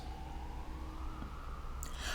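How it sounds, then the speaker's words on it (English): A police siren wails in the distance, its tone rising and falling faintly under low traffic rumble, with a brief bright burst of noise near the end. "I have heard more sirens the last 2 days than I've heard the entire time we've been here."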